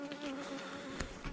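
Honeybees buzzing at an open hive during a spring inspection, a dense steady drone close to the microphone with individual bees whizzing past.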